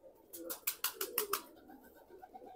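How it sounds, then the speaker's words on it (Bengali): Pigeons at a national zoo give a few soft, low coos, with a cluster of louder rustling or flapping bursts near the start and faint chirps after; quiet overall. "এই যে আমাদের জাতীয় চিড়িয়াখানার কবুতরের সিঁড়ি দেখুন,"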